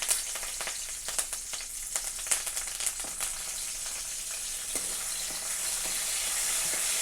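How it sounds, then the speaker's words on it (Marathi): Garlic and curry leaves sizzle and crackle steadily in hot oil, close by, with sharp pops scattered through a constant frying hiss. "त्यातच मी कढीपाला पण तेलामध्ये तळून घेते"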